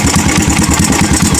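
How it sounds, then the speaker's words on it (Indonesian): A worn, used Kawasaki KLX motorcycle engine idles close by with a steady, rapid rhythmic knock in its low chugging note, running alone and evenly throughout. "ditambah lagi suara ketek itu ya"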